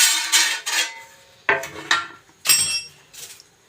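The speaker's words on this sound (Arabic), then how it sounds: "هجيب بقى صينيه عشان احطها في الفرن" Metal baking tray being pulled out and handled in a home kitchen while making mango kunafa, with a string of sharp clanks and scrapes, each ringing briefly before fading, close and fairly loud, with no talking.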